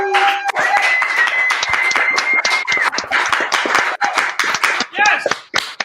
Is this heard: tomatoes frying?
no